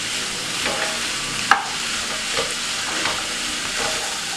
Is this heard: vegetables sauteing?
yes